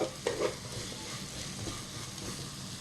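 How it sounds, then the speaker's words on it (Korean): Onions stir-fry in a pan with a steady soft sizzle, broken by a few scraping stirs near the start, close and moderately loud with no voices. "좀 많이 볶아야 돼요."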